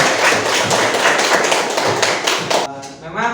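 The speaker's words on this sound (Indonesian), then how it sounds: "Tepuk tangan untuk semuanya" A classroom audience claps for group presentations in a dense, loud burst of hand claps that stops abruptly near the end, after which a voice begins talking.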